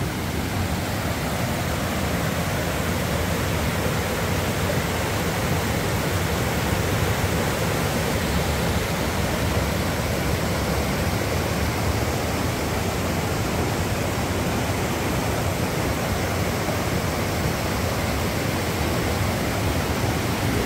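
A stream of water flows out of a cave, a loud, steady broadband rush with no breaks, like a close waterfall roaring for the whole stretch.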